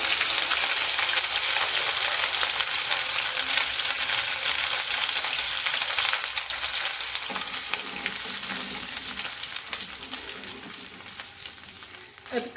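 Crushed ginger crackles and sizzles steadily in hot ghee, a continuous loud frying hiss with occasional stirring.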